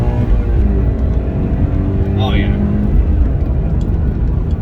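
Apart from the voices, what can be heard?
2020 Toyota 86 accelerating at high RPM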